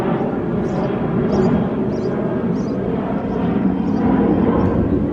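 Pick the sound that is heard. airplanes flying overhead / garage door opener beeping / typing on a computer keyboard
airplanes flying overhead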